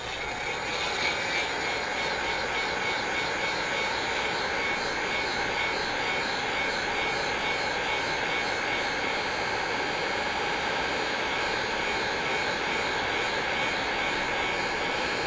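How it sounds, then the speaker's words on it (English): A heat gun blows continuously to warm window tint film on a car quarter window, producing a steady, loud, airy roar with a whining motor tone that runs unbroken and even the whole time. "grab your heat gun, you're gonna warm it up."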